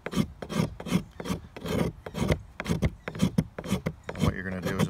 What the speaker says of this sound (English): use the spine of the blade and just scrape off some fine shavings